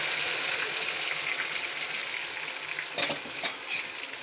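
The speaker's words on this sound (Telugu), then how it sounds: "ఇప్పుడు ఆ కాగిన నూనెలో ముందుగా పట్టుకున్న వెల్లుల్లిపాయ ఉల్లిపాయ గ్రేవీని వేయాలి" Garlic and onion gravy poured into hot oil for a bitter gourd curry, a continuous close sizzle and bubbling with a few sharper spatters and stirring scrapes toward the end, no talking.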